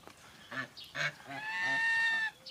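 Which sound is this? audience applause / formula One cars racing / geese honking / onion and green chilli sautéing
geese honking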